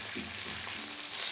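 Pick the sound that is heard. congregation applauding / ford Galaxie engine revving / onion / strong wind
onion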